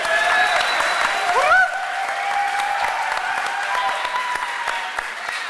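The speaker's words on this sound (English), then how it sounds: "You're supposed to applaud now." Audience applause at the Beyond HOPE opening press conference in 1997: a steady wash of clapping from a crowd, fairly loud and even throughout, with a brief tonal chirp near the start and faint speech mixed in.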